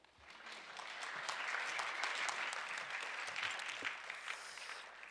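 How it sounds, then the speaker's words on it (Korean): A congregation at a university chapel service claps loudly to welcome a pastor to the front, a thick, sustained round of applause that swells and holds evenly throughout. "목사님 나오실 때 여러분 큰 박수로 맞아주시기 바라겠습니다"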